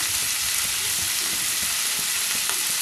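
Chopped onion frying in a pan for a prawn dish, a loud dense continuous sizzle with low rumbling bubbling underneath and a single faint knock near the end, close and without voices.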